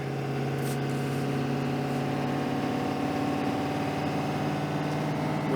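A heavy truck engine labours in first gear under a heavy load, a low steady droning rumble with a faint hiss, held at an even level without any voices.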